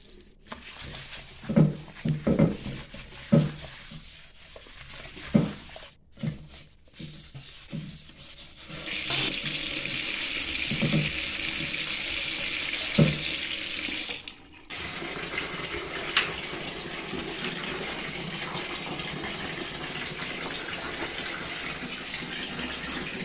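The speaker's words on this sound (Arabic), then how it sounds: "غسلت الطواليت وصلت دابا حاشاكم بالرغوه والتزرزيق والتفحيح" Water sprays and runs while a toilet is washed with foam, close and fairly loud. Scrubbing and rubbing noises come first, then a few seconds of steady hissing spray, then quieter running water.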